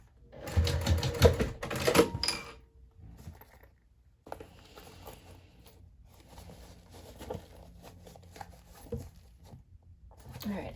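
A sewing machine stitching a small circle wristlet bag in short loud bursts of rapid clattering, then quieter intermittent runs with pauses and handling noises, heard up close.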